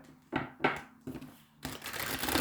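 Close-up tarot card shuffling: a few quick riffles and flicks, then a longer continuous rush of cards sliding together.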